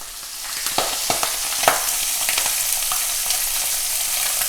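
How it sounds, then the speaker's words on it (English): Chicken pieces with skin on frying in a pan, a steady loud sizzle with crackles and occasional pops, close and continuous, with no talking. "You can see that's really nicely sizzling away"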